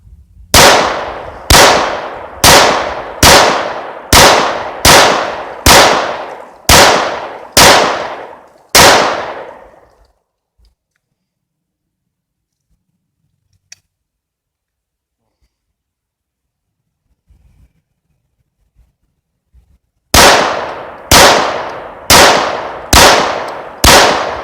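At an outdoor shooting range in Ohio, nine loud, close gunshots crack at an even pace about a second apart, then near silence with faint movement, then another rapid string of five shots.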